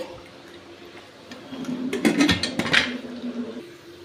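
Water pours into raw rice and moong dal with salt, then the mixture is stirred. A brief splash and swirl of liquid swells midway and then trails off over a low room hum.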